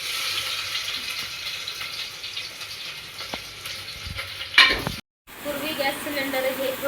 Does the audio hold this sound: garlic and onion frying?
yes